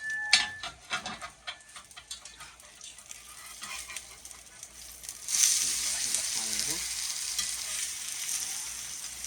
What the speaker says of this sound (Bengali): ডিমটা একটু উল্টিয়ে দেই